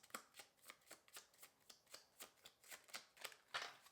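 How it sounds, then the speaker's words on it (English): Tarot cards riffled and shuffled by hand in quick, even bursts, about a dozen crisp fluttering snaps close to the mic, with the last one a bit louder and no talking. "Now we're doing the final shuffle."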